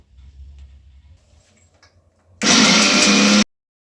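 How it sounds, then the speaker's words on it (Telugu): A mixer grinder grinding peeled seeds starts abruptly and runs as a loud, steady whirring roar for about a second before cutting off, after quiet background clatter. "ఫస్ట్ అయితే నేను విత్తనాలు పొట్టు తీసేసాం కదండి, అది మిక్సీ పట్టేసుకుంటున్నాను"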